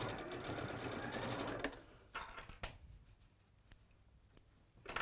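A sewing machine stitches fabric in a fast rattling burst, then goes quiet. A few lighter clicks and snips follow before the stitching starts up again at the end.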